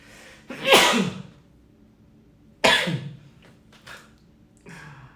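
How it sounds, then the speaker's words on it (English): Two sharp, loud sneezes about two seconds apart, each followed by a short fading tail, then a couple of softer sniffs or breaths in a quiet room. "Oh my goodness, I have to sneeze"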